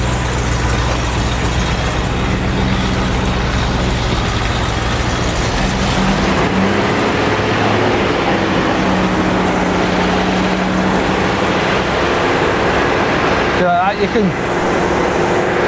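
A Range Rover Classic engine revs gently and builds slowly, a loud, steady, close mechanical drone with someone talking over it.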